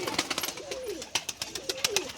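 Pigeons coo in soft, rolling calls, two clear phrases close by, with fluttering and light scuffling between them.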